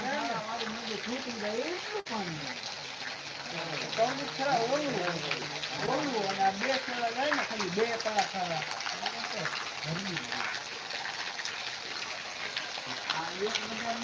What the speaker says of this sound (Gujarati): સિકરિયાળાની આ બજાર છે એમાં પાણી આટલું જાય છે